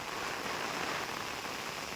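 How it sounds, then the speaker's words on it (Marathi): Heavy rain driven by wind during traditional rice field planting in Konkan, a steady dense broadband hiss that stays constant and loud from start to finish with no voices. "आणि तुफान असा पाऊस आला आहे वारा"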